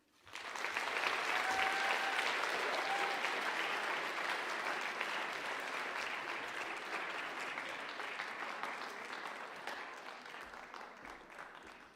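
Sustained applause from an audience at a national Bible competition closing ceremony, a dense steady wash of many hands clapping that swells quickly and holds for about ten seconds before slowly tapering, with no talk over it.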